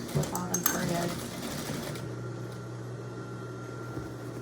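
Sewing machine stitching the hem of a homemade no-tie apron, a steady close whirring hum that runs throughout, busier and louder in the first two seconds, with a voice talking over it.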